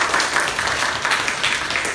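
Applause for the first group in a classroom: a steady, dense wash of many hands clapping together for two seconds, fairly close and even throughout, with no voices over it.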